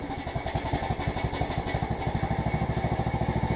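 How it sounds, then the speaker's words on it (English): A John Deere tractor engine chugs in a fast, steady rhythm after a cold night, its loud close firing pulses running evenly for a few seconds with no talk. "We need to get the tractor running"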